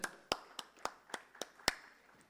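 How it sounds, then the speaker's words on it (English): A small burst of applause for a panel speaker at a dairy industry conference: about seven sharp, evenly spaced claps, fairly quiet and with no crowd swell. "Can we have a huge round of applause for him, everyone?"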